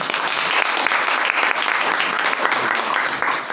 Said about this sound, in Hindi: एक बार इनके लिए जोरदार वाली ताली